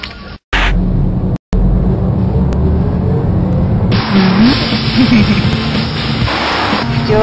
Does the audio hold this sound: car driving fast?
yes